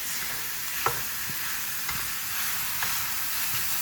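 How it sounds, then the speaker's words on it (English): Steady, loud sizzling of beef frying in a pan on medium heat, with occasional scrapes of stirring. "you can see even on medium heat how much steam and sizzling it's causing"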